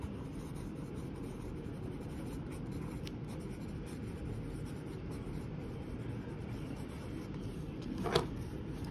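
A Lamy Safari fountain pen with a fine nib writing on paper, a quiet, continuous scratch of the nib over a low background hum, with a slightly louder stroke near the end.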